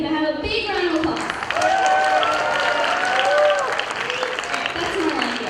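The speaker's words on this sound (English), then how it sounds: "Can I have a big round of applause?" Crowd applause at a live Indian celebration event, clapping mixed with cheering and voices, with a rising tonal whoop or whistle heard over the steady, fairly loud clapping throughout.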